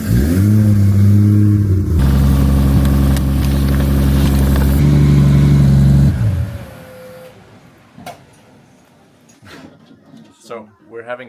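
A Toyota 2JZ engine swapped into a Nissan S13, revving loud and close with a steady high drone and a sudden pitch shift, then cutting off. Scattered clunks and knocks follow in a quieter space.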